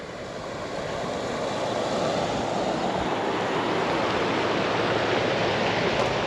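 Floodwater in California rushing over a road and into an orchard near a bridge, a steady broadband roar of flowing water that holds close and constant throughout.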